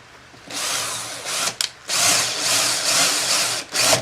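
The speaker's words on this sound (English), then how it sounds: "I'm going to drill a hole right here" A power drill whirs loudly in bursts, biting into wood, with a brief pause and restart midway and a short stop near the end.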